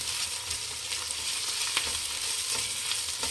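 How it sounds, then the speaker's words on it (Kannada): Ginger garlic paste fries in a pan for egg rice, giving a steady, close sizzle with faint crackles and occasional stirring scrapes, no voices. "ಶುಂಠಿ ಬೆಳ್ಳುಳ್ಳಿ ಪೇಸ್ಟ್ ಇದು ಚೆನ್ನಾಗಿ ಹಸಿ ವಾಸನೆ ಹೋಗೋವರೆಗೂ ಹುರ್ಕೊಬೇಕು"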